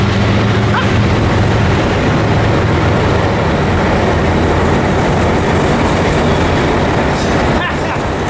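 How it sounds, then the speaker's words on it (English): A long freight train with auto rack cars rolls steadily past a railway station at Riverside, a loud continuous rumble and clatter of wheels on rails with a few brief squeals near the end. "Another San Diego bound freight?"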